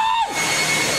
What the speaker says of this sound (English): Like you said, that's a leaf blower.